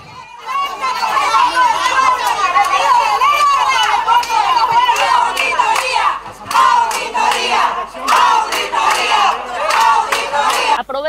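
A crowd at a political event in Bolivia loudly boos and jeers, with shouting voices and scattered claps rising and falling over several seconds, close and continuous.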